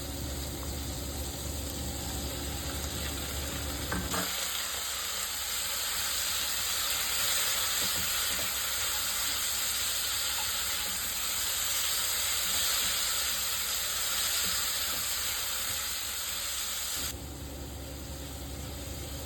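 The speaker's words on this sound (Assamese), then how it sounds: "সেইকেইটাও মই একেলগে বিলাহীৰ লগতে ফ্ৰাই কৰিম।" Tomatoes fry in a pan with soaked cashews, almonds and a piece of ginger, giving a loud, steady hiss that starts abruptly, holds evenly for about thirteen seconds, then drops away.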